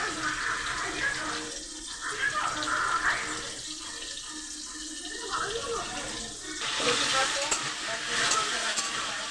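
Potatoes frying in a pan during home cooking make a steady, bright sizzle with hiss and crackle that rises and falls, fairly close, with no talk over it.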